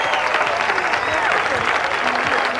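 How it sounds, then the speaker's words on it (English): An audience applauds the cast of The Brady Bunch at a 2006 event in Hawaii, a dense continuous roar of clapping with crowd voices and scattered cheers mixed in. "how about a nice big round of applause for the cast of the Brady Bunch?"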